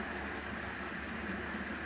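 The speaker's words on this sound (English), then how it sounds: "even the sound of it going along the tracks, it does sound like a train" Miniature model train running along its tracks, producing a quiet, continuous rolling rumble with a faint rhythmic ticking, close by, with no voices over it.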